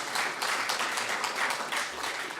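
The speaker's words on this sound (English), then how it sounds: "So give him a round of applause." Audience at a spring convocation session applauding a student author, steady dense clapping from a crowd throughout, fairly close and even in loudness.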